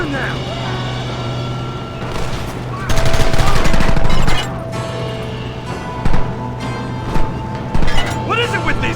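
Bursts of gunfire in Red Dead Redemption crack loudly and close in several separate volleys of rapid shots, with voices speaking between them over a steady background hum.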